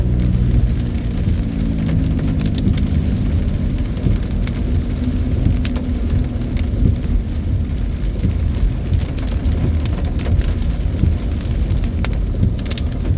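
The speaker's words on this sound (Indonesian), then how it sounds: "langitnya hitam dan hujannya semakin besar." Heavy morning rain pours steadily under a dark sky, a dense continuous hiss close by with low traffic rumble beneath, broad and even throughout with no talking.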